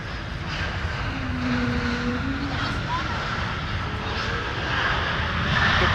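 A Delta airliner takes off from runway 17 at Minneapolis–Saint Paul airport at night, a steady distant roar of jet engines building slightly, with radio chatter and talk over it.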